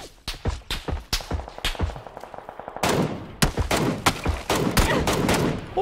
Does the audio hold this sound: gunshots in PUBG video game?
yes